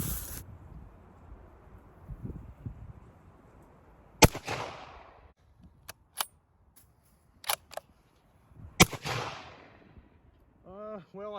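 .270 Winchester rifle shots at an outdoor range: three sharp, loud reports spaced a few seconds apart, each with a short rolling echo, plus smaller clicks and clatter between them and a brief voice at the end.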